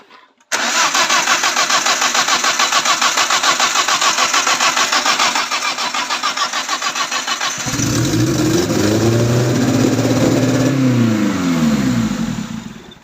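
Turbocharged BMW 316 car engine cranking for several seconds with a rapid starter rhythm, then catching and settling into a fairly high, loud idle with slight revving swells.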